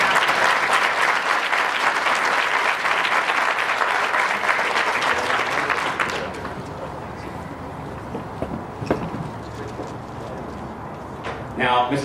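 A large audience at a graduation ceremony breaks into loud, sustained applause for an award winner, which cuts off about halfway, leaving a quieter hall with scattered small noises.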